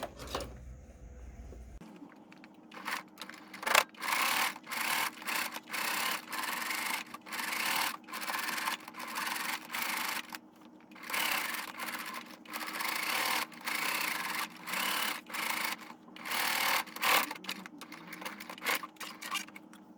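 A sewing machine stitches a hanging kitchen towel in rapid bursts of whirring mechanical rattle separated by short pauses, close and moderately loud, with a low steady motor hum underneath and no talking.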